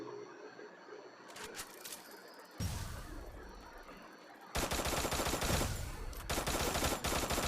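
Gunfire in the mobile shooter game Free Fire: bursts of rapid automatic shots, rising from fainter scattered firing to a loud, sustained stream of fire near the end.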